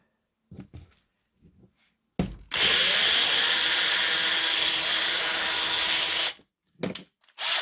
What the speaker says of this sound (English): So let's drill it apart and see what we've got.